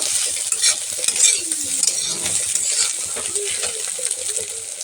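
Coriander leaves stirred into egg bhurji frying in a pan, a steady loud sizzle with scraping stirring strokes running underneath throughout.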